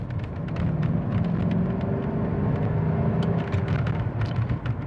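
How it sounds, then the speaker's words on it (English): A 1980s Mercedes-Benz 560SEL W126 V8 engine accelerating, a deep rumbling roar that builds and holds through the gear changes, heard from inside the car with ticking and clicking on top. "Get a little opened up in a bit to show off the V8 power here."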